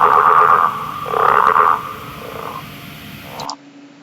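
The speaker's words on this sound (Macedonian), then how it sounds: "Жаба." A frog croaks loudly and close in a few drawn-out, throaty pulses over roughly three seconds, then cuts off into quiet.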